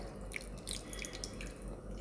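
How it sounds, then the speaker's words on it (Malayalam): Water trickles and drips into a grinder jar of spice mixture for a mackerel curry, a faint, brief liquid pouring with soft splashes over a low background hum, no voices. "വെള്ളം ഞാൻ ഇതിലേക്ക് ചേർത്ത് കൊടുക്കുന്നുണ്ട്."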